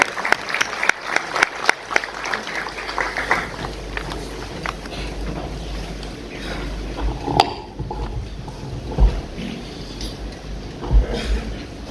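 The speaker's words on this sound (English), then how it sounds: "A big round of applause for him." Audience applause for Air Chief Marshal Amar Preet Singh, Chief of Air Staff, Indian Air Force, at a PHDCCI event: sharp clapping opens loud, then thins and fades into scattered claps and room noise.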